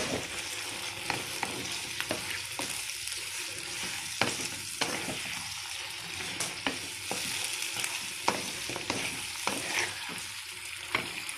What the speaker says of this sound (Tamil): கத்திரிக்காய் சும்மா எண்ணெய் வதங்குற அளவுக்கு இருந்தால் போதும், ரொம்ப வதக்க வேணாம்.